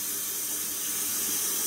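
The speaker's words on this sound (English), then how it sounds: "I'm just going to let that thing fill up with hot tap water" Hot tap water pouring steadily into a cone for Thai sticky rice, a close, continuous hissing splash with no pauses and no voices.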